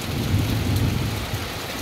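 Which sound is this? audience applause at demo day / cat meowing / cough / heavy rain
heavy rain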